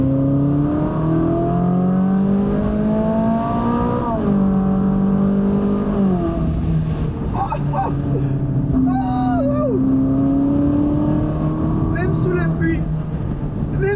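A Ferrari 458 Spider engine drones loudly and steadily inside the cabin, pitch rising and dipping with the revs, while people talk over it.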